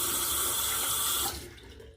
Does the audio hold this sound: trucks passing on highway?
no